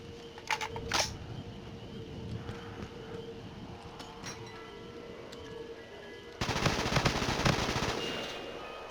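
AK rifle gunfire in a video game comes as a few scattered sharp shots, then a dense, loud burst of rapid automatic fire in the last few seconds.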